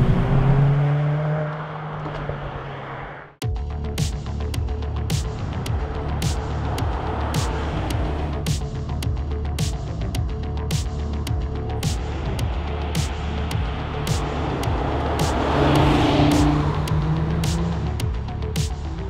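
Mercedes-AMG A 45 S hot hatch driven hard, a loud continuous engine note held under load with a sharp change near the start and steady droning intensity throughout, no talking.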